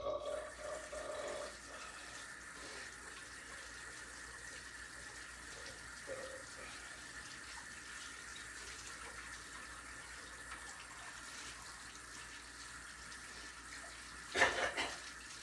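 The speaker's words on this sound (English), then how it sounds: "To wash my hands right quick" Tap water runs steadily at a modest level while hands are washed at a sink, with a brief clatter near the end.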